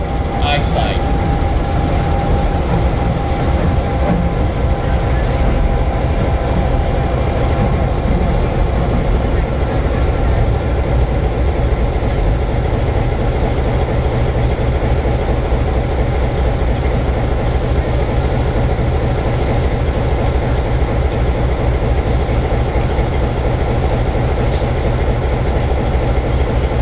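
Locomotive at a heritage railway moving along the track: a loud, continuous rumble with rhythmic clatter throughout. A voice talks over it now and then.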